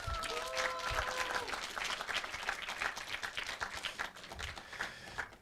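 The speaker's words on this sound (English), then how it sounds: "Applause for them!" Audience applause for sponsors at a WarsawJS JavaScript meetup: a moderately quiet, continuous patter of many hands clapping, with a few sharper individual claps standing out before it fades at the end.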